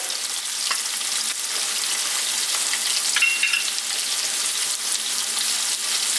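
Onions with minced garlic and ginger frying for a lamb and potato curry, giving a dense continuous hiss and crackle up close with faint stirring clicks and a brief higher squeak midway, no talking.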